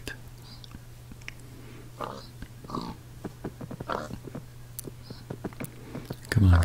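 Pigs in the video game Minecraft give soft, scattered grunts and oinks in a dark woodland, under a steady low hum with quiet whispered speech throughout.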